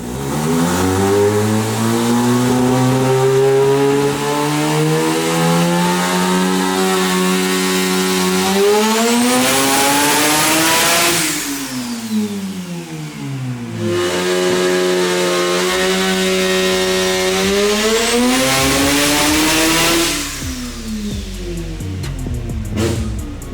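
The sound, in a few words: 1000+ hp rotary RX-7 race car on the dyno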